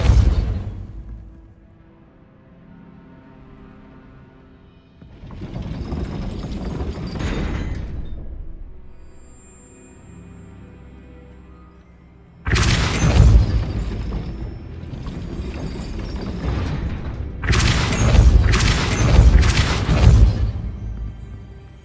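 Spells cast in the Hogwarts Legacy video game, including Depulso, land as several loud booming bursts with rumbling tails, separated by quieter gaps, the last few blasts coming close together.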